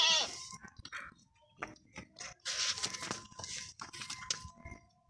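Goats at a dairy goat market, several short bleats scattered among rustling and chewing noises, fairly quiet and heard at close range with no one speaking.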